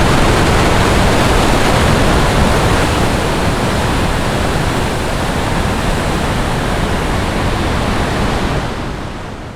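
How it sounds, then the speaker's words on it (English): A loud, steady roar of rushing water from Murchison Falls in Uganda, broadband and unbroken, easing slightly toward the end. "we couldn't leave without stopping briefly at Murchison Falls"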